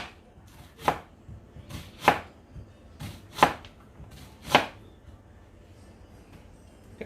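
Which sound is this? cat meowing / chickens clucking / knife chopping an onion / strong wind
knife chopping an onion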